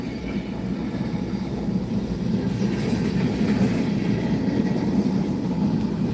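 Close and loud, a Norfolk Southern train rolls steadily past, its continuous low rumble carrying rhythmic clickety-clack and a thin wheel squeal, with no voices.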